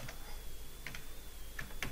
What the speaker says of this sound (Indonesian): saya ketik kayak gini